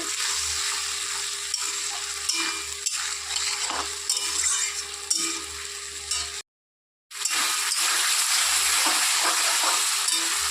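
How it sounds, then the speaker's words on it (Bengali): Fish curry spices and turmeric stirred in a sizzling pan, a continuous frying hiss with intermittent scrapes and taps of a utensil against the pan, briefly cut by a moment of silence before the sizzle resumes. "তারপর দিয়ে দিতে হবে হলুদ গুঁড়ো তারপরে আবার একটু নেড়ে চেড়ে দিতে হবে"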